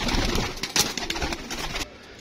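A pair of pigeons coo close by in soft, repeated throaty calls, with light rustling and a brief flutter of wings, then the sound thins out toward the end.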